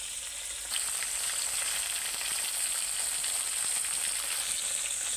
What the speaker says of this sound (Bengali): আর এই যে মাছটা কিন্তু ভাজা হয়ে আসছে